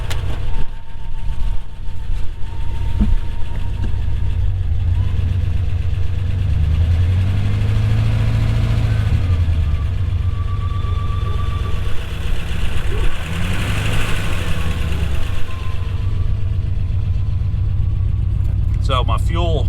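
A farm truck engine with a cut-off exhaust rumbles loudly and continuously at idle, a deep throaty drone with rough low pulsing and occasional rises, heard close up throughout.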